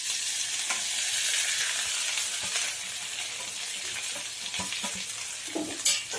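Fiddlehead fern sizzles in a pan with garlic and onion, a steady close frying hiss broken by scraping stirs and light utensil knocks toward the end.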